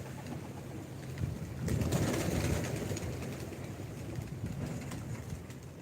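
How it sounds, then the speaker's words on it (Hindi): Soft, low cooing of pigeons pecking at grain, mixed with faint outdoor morning ambience, swelling briefly near the middle, fairly quiet and without speech. "बहुत सारे कबूतर भी हमारे साथ यहाँ पर दाना चुगते हैं"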